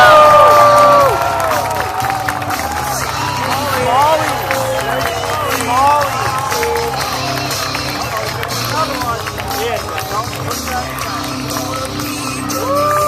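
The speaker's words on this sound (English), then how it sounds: "get loud for Hank Cherry" A large crowd at a Bassmaster All Star Weekend final day cheers and whoops loudly for an angler walking onto the stage, with excited shouting over steady roaring applause and hubbub throughout.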